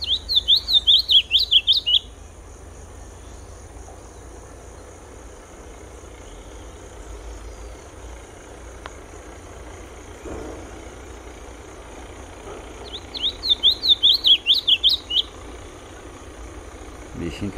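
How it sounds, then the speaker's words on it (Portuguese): Two short bursts of a masked yellowthroat's (pia-cobra) quick, high chirping song, about ten seconds apart, heard over a steady low rumble like an idling engine, with faint background noise between the phrases. "Esse daí é o Pia Cobra que tá cantando."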